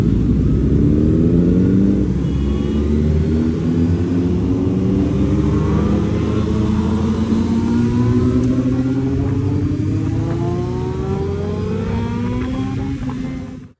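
A group of motorcycles, Hayabusas among them, sets off together on a ride, their engines droning and revving loudly up close in a dense, continuous roar that cuts off at the end.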